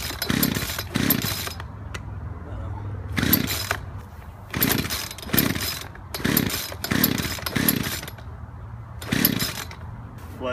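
A chainsaw carving a birdbath revs in loud, close bursts, each roaring for about a second and separated by short gaps of quieter idling.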